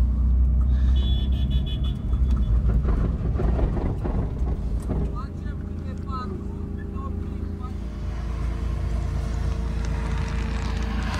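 A car drifting in Greece: a loud engine roars and revs up and down under strong wind buffeting, with people talking over it.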